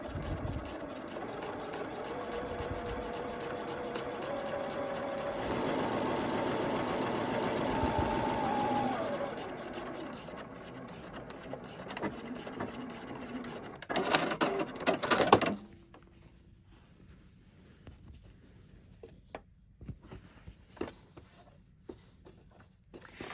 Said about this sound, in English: I'm going to stitch that into position, focusing on where this seam allowance line is hitting my inside foot there.